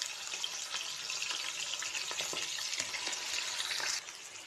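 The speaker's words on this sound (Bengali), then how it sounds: "তেলটা যখন একটু গরম হবে তখন এই তো আমি কলিজাগুলো ছেড়ে দেব।" Chicken liver frying in hot oil in a wok gives a steady, close sizzle with faint bubbling crackle, constant throughout and without speech.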